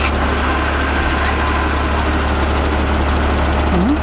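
A UAZ truck engine idles steadily at close range, a loud, even low rumble that runs without a break and with no voices over it.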